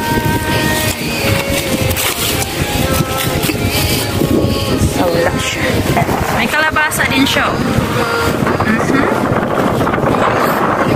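Strong wind buffeting the microphone in a rural Cebu field during a camote harvest, a loud continuous rushing roar throughout, with a person talking over it.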